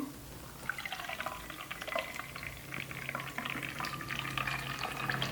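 Water gurgles and splashes as it is poured into a Super Sparrow Triton water bottle, a continuous bubbling trickle heard close up at low level.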